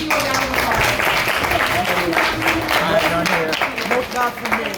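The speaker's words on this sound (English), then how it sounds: "Parents, stand up and let your kids give you a round of applause." An audience at a debate banquet applauds the parents, sustained clapping from a crowd with voices talking and calling out over it.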